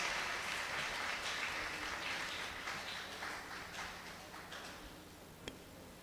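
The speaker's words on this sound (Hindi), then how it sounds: "हम सिस्टर के लिए एक जोरदार ताली बजाएंगे।" Applause at a church feast celebration at St. Mary's Church, honoring the sisters, a steady patter of hands from a gathered congregation that gradually thins, with a single sharp knock near the end.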